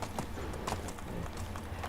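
Donkey hooves clip-clop steadily in Medieval Dynasty, a brisk repeating rhythm of light thuds close by over a low ambient bed.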